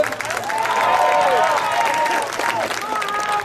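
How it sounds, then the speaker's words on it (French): Spectators applaud a boules player during a thousand-throw shooting challenge, a brief burst of clapping with cheering and overlapping voices. "On les applaudit bien fort"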